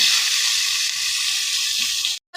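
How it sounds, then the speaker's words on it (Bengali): Onion, garlic and green chillies fry in hot oil in a kadai, a steady loud sizzle that hisses continuously before cutting off abruptly. "যে তেল আছে এর মধ্যে আমি পেঁয়াজ রসুন আর কাঁচামরিচ এগুলো ভেজে নিব"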